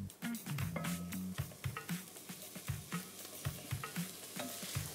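Porcini mushrooms sizzle in a pan. Repeated stirring and scraping knocks punctuate a soft, steady frying hiss, fairly quiet and close.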